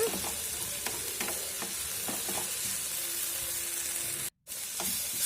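Chopped tomato, ginger and garlic sauté in a pan for a cowpea masala, giving a steady close sizzle with scraping stir strokes scattered through, broken by one brief silent gap near the end.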